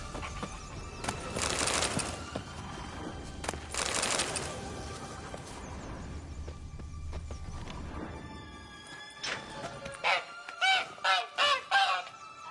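Goose honking in The Witcher 3, a farm goose in the game heard as a run of five or six loud, rhythmic honks near the end, following several seconds of louder game ambience with hoof-like clatter.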